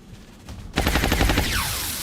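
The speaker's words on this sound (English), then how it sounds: "Let's try to hit with the pistol" A pistol shot cracks in the XCOM Long War strategy game, one sharp report after a quiet lead-in, followed by a ringing tail and a sweeping tonal effect.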